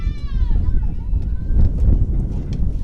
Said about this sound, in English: So wind starts to gust up a little bit here.